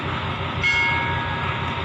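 Thai rapid train 111 pulling out of Chum Saeng station, with a low rhythmic rumble of rolling wagons, a brief high whistle or horn tone in the middle, and steady clatter close by.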